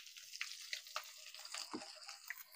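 Chopped green chilies, garlic and onion sizzle and crackle in hot oil in a pan, with irregular spatters and stirring scrapes close up, no talk.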